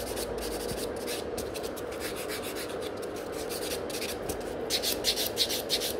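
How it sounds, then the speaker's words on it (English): A nail buffer rubs over sculpted fiber gel extensions, a close, steady dry scratching that rises into quicker, harder strokes near the end, with no voices. "And the buffer is just perfecting this shape."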